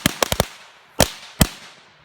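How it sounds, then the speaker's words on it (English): Classic firecrackers set off at close range outdoors: four quick sharp pops in a rapid cluster, then two more isolated bangs, each crisp and loud with a short fading tail. "The classic firecrackers here."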